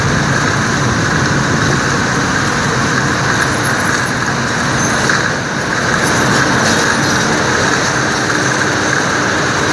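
Traffic rumbles through a large tunnel running beneath the river in Saigon, a loud, continuous roar with the echo of an enclosed space and no pauses or speech.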